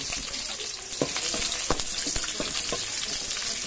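Ginger sizzles with sautéing onions in a pan for a mussel and water spinach dish, a close, steady frying hiss with a few sharp stirring clicks from a utensil.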